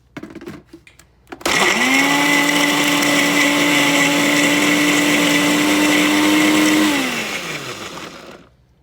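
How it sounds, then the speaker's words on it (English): Close, loud electric blender whirring steadily as it grinds pecans for homemade butter pecan coffee creamer, holding a constant pitch for several seconds before spinning down at the end. "we're going to blend this for about 1 minute"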